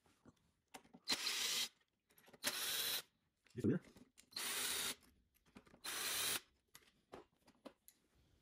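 A power driver backs out four 3mm hex screws holding the handle of an InMotion V13 electric unicycle, in separate bursts of loud whirring about a second long with short pauses between, plus a few light clicks.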